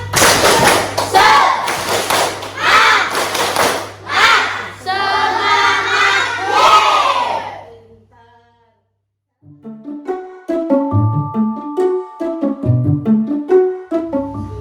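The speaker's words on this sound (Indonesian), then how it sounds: "Tepuk semangat." Classroom students in an Indonesian lesson do a rhythmic spirit clap, sharp loud claps in groups mixed with shouted chanting, then a brief pause before a lighter patter of claps and voices resumes.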